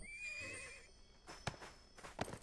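A horse in the video game ArcheAge gives a clear neigh, a rising and falling whinny, followed by a few hoof clops and snorting breaths. The sound is close and alone.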